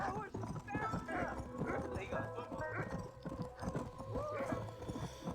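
Horse hooves clip-clop in a quick galloping rhythm in the Red Dead Redemption video game, with occasional whinnies, running continuously under a person talking over the action.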